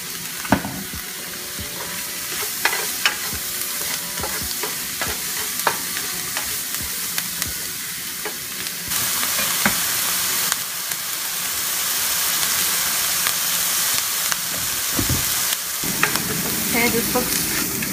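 Mushrooms sizzle steadily in a hot pan while cooking for a shepherd's pie, a continuous frying hiss with scattered pops and occasional stirring scrapes that grows brighter and louder partway through.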